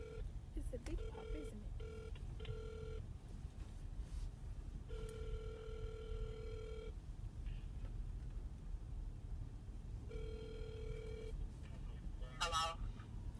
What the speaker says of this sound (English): Let me call your grandma.